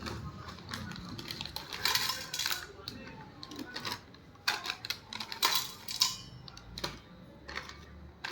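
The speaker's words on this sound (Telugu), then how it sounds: "ఇప్పుడు చిప్స్ వేసుకుందాం." Chips are dropped into a chaat of cheese, onion, tomato, lemon, coriander and chaat masala, giving close, crisp rustling and clattering bursts in uneven clusters over a quiet background.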